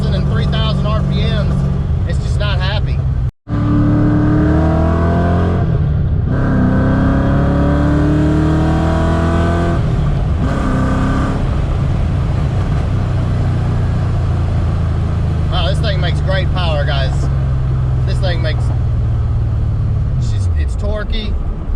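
A Ford Fox body with a 331 stroker V8 revs and pulls hard while driving, the engine note sweeping up through the RPM range in long rising pulls, loud and close, with someone talking over it.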